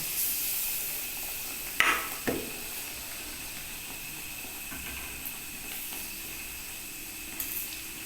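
A slice of white bread fries in hot oil, giving a constant faint sizzle and hiss, with a few brief clicks and clatters from the pan.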